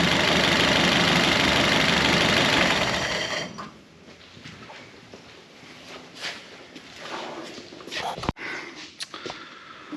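A Super Winfield car engine running loud and steady at first with throttle, then dropping to a quieter rough idle with mechanical ticking and a few sharp clanks nearby.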